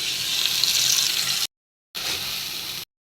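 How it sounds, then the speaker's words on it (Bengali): Water is poured into a pan of hot mustard oil with fennel seeds, dried chilli, bay leaf, turmeric, chilli powder and salt, two steady hissing bursts separated by a short silence. "একটু জল দিয়ে দেবো"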